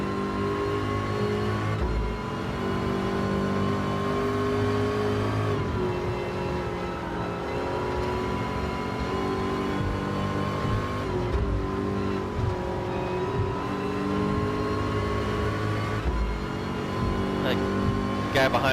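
A race car engine held near full throttle in a close racing battle, droning loud and steady with strong harmonic whine, dipping briefly at a few shifts, while a voice talks over it throughout.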